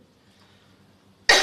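A single sharp, loud cough bursts out near the end after a second of quiet room tone.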